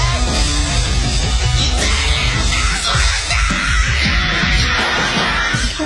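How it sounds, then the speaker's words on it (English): A man screaming loudly and continuously, a raw, strained yell that fills the whole stretch over a noisy, crowded background. "He's really an impressive screamer."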